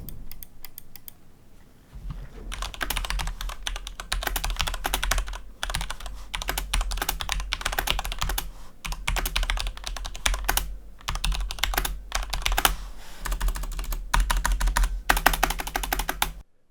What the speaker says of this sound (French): Celui-ci, c'est le Corsair K70 avec des switches Rapid Fire.